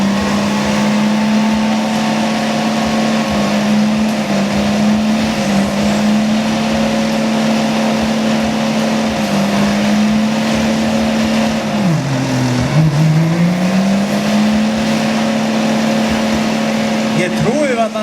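Nissan Patrol on 38-inch tyres doing a burnout at a car show event, engine held at a steady high drone with a brief dip and recovery midway, loud and continuous with spinning tyres.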